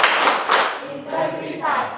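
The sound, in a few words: class doing rhythmic PPK clapping chant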